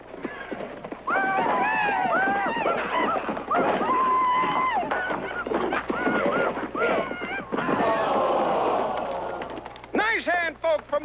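A bucking bronc at a rodeo neighs and whinnies loudly several times over the clatter of hooves, with crowd noise and talk throughout.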